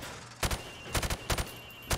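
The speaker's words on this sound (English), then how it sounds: "Now, shoot at the targets while firing from the hip." A rifle fired from the hip at targets on a training range in Call of Duty Modern Warfare Remastered, sounding as four short bursts of two or three sharp, close shots each, separated by brief pauses.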